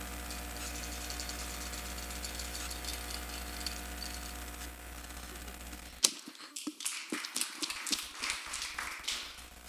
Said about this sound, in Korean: 이제 행운의 돌림판 하시죠.